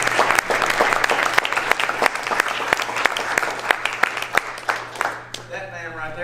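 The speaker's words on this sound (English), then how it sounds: "I'd love for y'all to please give him a round of applause" An audience at a motivational speech gives Marshall Gillen a round of applause, with sharp individual claps standing out in a full, sustained burst that tapers near the end as a voice comes in.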